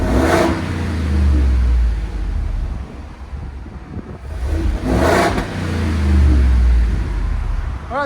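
A Ford F-350 pickup with a 7.3L gas V8 and a louder exhaust revs hard twice, giving deep, booming rises that fade back to a rumbling idle, close to the microphone, with wind noise.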